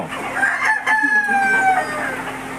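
Chickens call near a pen as they are being caught, a rooster crowing over loud clucking and squawks, close and busy, with faint voices.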